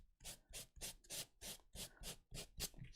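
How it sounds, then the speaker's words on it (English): Light, rhythmic sanding strokes over stamped letters, about eight even rasping passes in steady succession, close and clear with no talking. "I'm just very lightly going to sand through the stamped letters"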